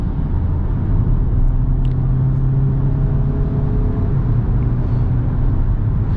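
A 180 hp Peugeot 3008 pulls hard under acceleration, its engine droning in a steady, close rumble with road noise and no talking.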